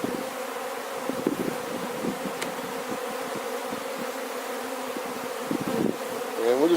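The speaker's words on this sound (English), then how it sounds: "I'll let the bees work themselves up off there." Honey bees buzz steadily around an opened beehive during a hive check, a dense, close swarm drone with no talking.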